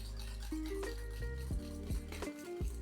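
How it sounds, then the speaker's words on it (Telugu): A whisk mixes condensed milk in a bowl, producing faint, quiet taps and scrapes repeating at an irregular rhythm over a low background hum. "దీన్ని మంచిగా మిక్స్ చేసుకోవాలి. విస్క్తో అయితే మంచిగా మిక్స్ అయిపోతుంది."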